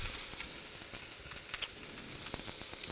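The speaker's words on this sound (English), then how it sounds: "Now while we are frying the onions" Onions sizzle and fry steadily in a pan with herbs and spices added, a dense continuous crackling hiss close to the ear with no one speaking.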